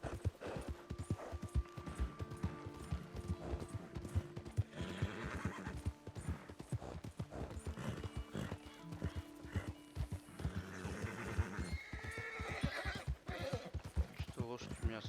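Clip-clop of horse hooves and repeated neighing and whinnying from a horse in the video game Red Dead Redemption 2, with game music and ambience around them and someone talking over much of it.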